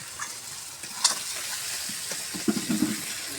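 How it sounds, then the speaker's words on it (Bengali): Spice paste for beef curry (gorur mangsho bhuna) frying in oil as it is stirred, a soft continuous sizzle with a few scraping stirs and light clinks, close and moderately quiet, no voices. "সুন্দর করে মশলাটা আমি কষে নিচ্ছি।"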